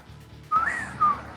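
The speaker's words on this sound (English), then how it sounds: "There's a whistle." Two short whistles, the first a rising and falling sweep, the second a brief level tone, each cutting clearly above a low background hum.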